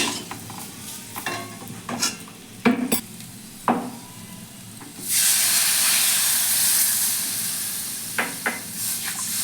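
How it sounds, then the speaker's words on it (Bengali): Water poured into a hot pan of fried potatoes for a vegetarian aloo dum erupts into a loud, sustained steaming hiss and sizzle, following a few brief clinks and stirring scrapes. "এবার আমি এর মধ্যে জল দিয়ে দেবো"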